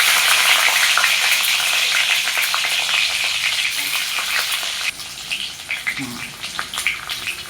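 Garlic sizzles and crackles in hot oil for Tamil village-style brinjal kadaisal, a steady loud frying hiss that eases slightly midway, with a few stirring scrapes near the end and no talk.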